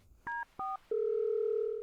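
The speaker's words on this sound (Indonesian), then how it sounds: "Saya akan telepon Tuan Muda sekarang." A telephone keypad sounds two short dialing tones followed by a long steady tone, clear and close against a faint quiet background.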